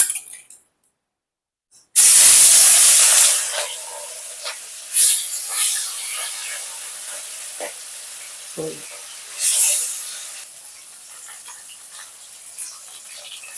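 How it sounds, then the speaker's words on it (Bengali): Rohu fish pieces coated in turmeric and salt drop into hot oil in a wok, bursting into a loud sizzle that settles into steady frying with intermittent spattering pops, close by. "এই মাছগুলোকে আমি 2 পিঠ ভালো করে লাল করে ভেজে নেব।"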